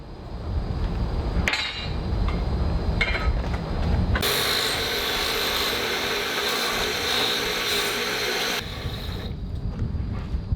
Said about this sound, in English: we're just gonna clean it up a little bit on the bench grinder here, so it's not as sharp